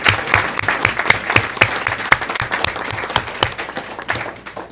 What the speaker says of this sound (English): we can give you all just a round of applause for sure.